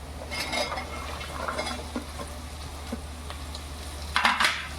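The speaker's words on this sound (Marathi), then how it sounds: "हळदीला जरा तेलात मारून घ्यायची भेंडी टाकायची" Okra frying with turmeric in oil, a soft continuous sizzle under a low hum, broken by light spoon scrapes and clinks against the pan, with a louder clatter near the end.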